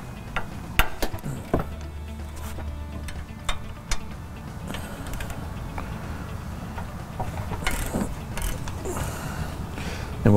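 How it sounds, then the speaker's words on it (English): Wrench loosening the caliper carrier bolts on a 2005 Dodge Cummins pickup, giving close ratcheting clicks and sharp metallic knocks over a steady background of shop noise. "Two bolts on this, 18 metric on this Dodge. Just go ahead and bust them loose."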